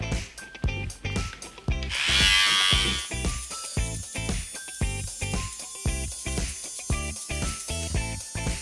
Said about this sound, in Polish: Z powrotem zakładam trymerek, konturóweczkę i obrabiam wąsiska.